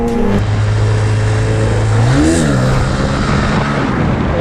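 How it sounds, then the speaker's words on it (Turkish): Cars driving past on a road, engines rising and falling in a steady whoosh with a mid-range engine hum that swells as a vehicle goes by; no one talks. "Dur arabalar geçti."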